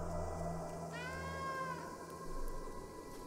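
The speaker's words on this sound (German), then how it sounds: "Und unsere Katzenkumpels mauzen mit." A single drawn-out meow from one of the companion cats in the video game Stray, clear and close, lasting about a second over a quiet steady ambient hum, with no speech.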